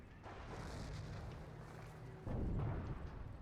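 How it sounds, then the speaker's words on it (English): An SU-76 self-propelled gun fires in a Company of Heroes 1 Eastern Front mod 2v2 battle: a heavy, rumbling wash of battle noise with a louder, deeper boom about two-thirds of the way through. No one speaks. "SU-76 getting some shots off."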